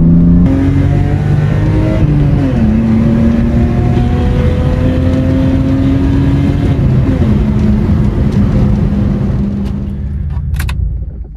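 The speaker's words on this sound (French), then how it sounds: "On va se permettre une dernière petite accélération" A car fitted with new MaxPeedingRods T7 coilovers accelerates on an open road, its engine note climbing through gear changes in a loud, steady drone from inside the cabin before easing off at the end.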